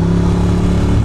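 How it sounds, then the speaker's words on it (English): A group of motorcycles rolls past on a road between upstate New York and the Bronx, giving a loud, steady engine drone with layered harmonic hum and light mechanical clatter, continuous for about a second. "Oh, look at all those bikes over here."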